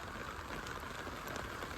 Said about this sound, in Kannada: ಎಲ್ಲೆಲ್ಲೂ ಮಳೆ ಐತಿ